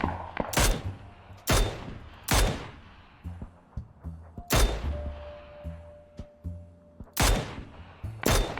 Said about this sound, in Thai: มันยิงรถ มันยิงรถ มันยิงรถ